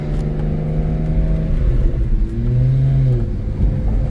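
BMW 335i accelerating through a gear shift, engine droning and rising in pitch, dipping briefly at the shift before climbing again, loud and steady inside the car.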